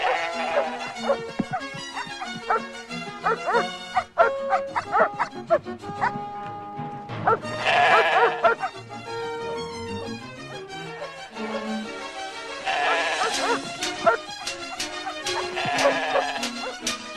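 Dogs bark, yip and whimper in bursts over a dense, tonal backdrop from a 1982 animated film, with the animal sounds rising and falling in loudness across the scene.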